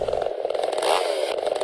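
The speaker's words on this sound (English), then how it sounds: "Chainsaw. Vroom, vroom." A chainsaw runs in Mad Father, a harsh buzzing whine that pulses and rises briefly mid-way, loud and close with no voices.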